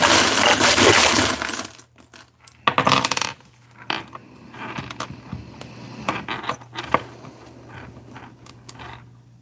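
A small box full of metal pieces is rattled hard, a dense jangling clatter at first, then scattered clinks and taps as it settles.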